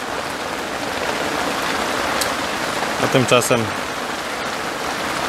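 Heavy rain pours steadily onto a fishing tent during an autumn carp session, a dense continuous hiss throughout, with a brief stretch of male speech partway through.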